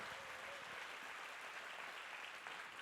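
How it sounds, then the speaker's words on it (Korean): A church congregation at a Sunday service claps in quiet, steady applause welcoming the founding pastor, heard faint and distant without voices. "파운딩 패스터 나오실 때 큰 환영의 박수 부탁을 드립니다"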